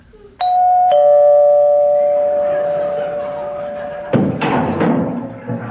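A doorbell rings out loud and close with a bright chime that rings on and fades, followed by a few dull thumps and knocks near the end.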